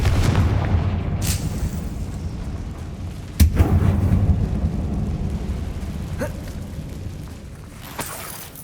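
A fire spell from Hogwarts Legacy bursts in deep booming blasts, a sharp explosive crack near the middle and a smaller one near the end, over a continuous low rumbling game soundscape.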